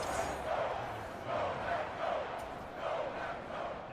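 A stadium crowd doing a slow clap in a Madden NFL football video game, Minnesota vs Green Bay, with rhythmic swells of crowd noise under a steady roar.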